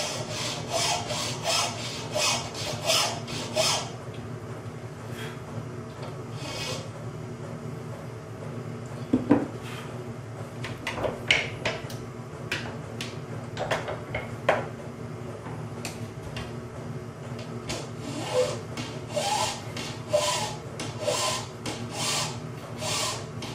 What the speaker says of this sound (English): File this down just a little bit.